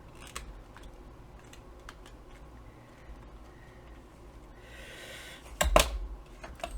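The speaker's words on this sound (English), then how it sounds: "I am going to be rounding the corners on the paper as well." A corner rounder punch clipping the corner off a sheet of paper in a journal: one sharp, close snip near the end, over faint room noise with soft handling sounds before it.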